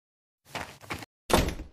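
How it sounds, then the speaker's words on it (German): A front door of a house opens and shuts, giving two short bursts of thumping and rattling before a louder, closer bang as it closes. No voices are heard. "Das war doch die Haustür."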